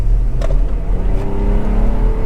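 A 2006 Nissan Maxima with a 3.5 engine accelerating hard, its engine roaring loud and steady from inside the cabin with no talk.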